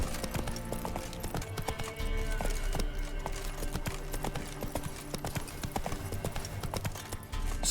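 Horse hooves clip-clop steadily on ground in the video game Witcher 3, a continuous close trotting rhythm with game sounds around it.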